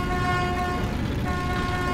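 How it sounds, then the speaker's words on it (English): A vehicle horn in the video game Metro 2033 Redux blares as one loud, steady tone held for the whole short stretch, close and unbroken. "I can keep honking. I don't need to stop honking."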